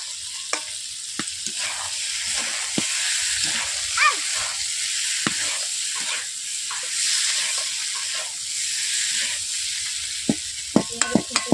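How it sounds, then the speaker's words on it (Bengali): Crushed rohu fish head is stir-fried in an oily pan with a steady frying hiss, repeated scraping and clicking of a spatula, and a few quick knocks near the end. "এরপর একই সঙ্গে মাছের মাথাটাকে কষিয়ে নেব।"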